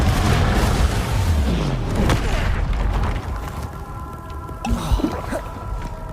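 A Confringo fire spell blast in Hogwarts Legacy erupts with a loud, dense rumbling whoosh that swells and fades, followed by a couple of sharper impacts and a lingering hum.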